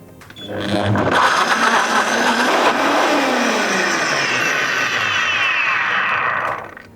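A loud blender whirs steadily for several seconds, its high-pitched motor grinding through frozen ingredients before cutting off abruptly.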